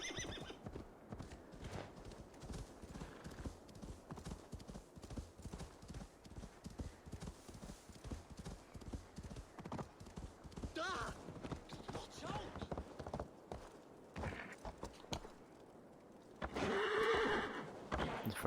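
A horse in Assassin's Creed Valhalla gallops with rapid, rhythmic clip-clop hoofbeats and gives a whinny near the end, all within game audio while a voice talks over it at times.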